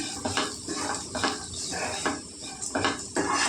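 Chili powder gets stirred into okra fry in a pan, with rhythmic scraping and knocking of a spoon against the pan in quick repeated strokes and a soft background hiss.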